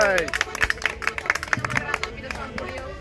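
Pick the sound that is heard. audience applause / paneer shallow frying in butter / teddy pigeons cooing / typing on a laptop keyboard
audience applause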